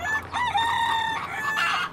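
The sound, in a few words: rooster crowing, barnyard noises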